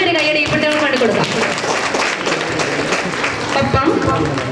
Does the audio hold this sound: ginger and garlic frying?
no